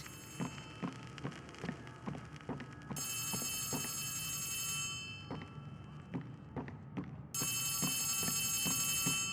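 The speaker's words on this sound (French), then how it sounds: "Il y a un téléphone quelque part." In the video game Poppy Playtime Chapter 3, a telephone rings in bright repeated bursts over a steady low ambient drone, with regular dull thuds like footsteps running beneath it throughout.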